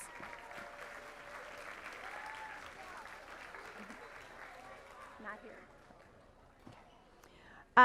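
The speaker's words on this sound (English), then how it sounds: "Let's give him another round of applause." Applause from a school board meeting audience for a student honoree, a moderate steady patter of many hands that thins out toward the end, with faint voices in the room.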